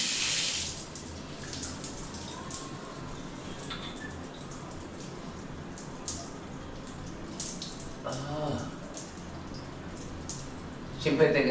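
Water runs from a tap in a newly built bathroom, a steady splashing hiss with faint drips throughout, and voices talking over it now and then.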